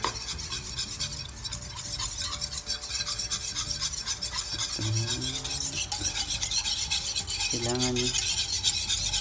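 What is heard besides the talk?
stirring leche flan mixture in a bowl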